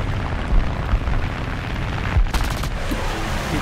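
Aircraft gunfire in War Thunder, with a rapid burst of machine-gun shots rattling briefly over a loud, constant roar of engine and airflow.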